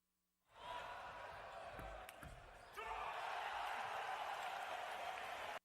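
A table tennis game heard as a broad crowd-like wash with a few sharp ball knocks early, then a louder sustained roar of noise to the end.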